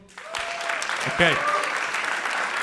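Audience applause in a comedy club erupts as a full, sustained burst of crowd clapping that fills the room. Someone speaks briefly as the clapping starts, and it carries on steadily underneath.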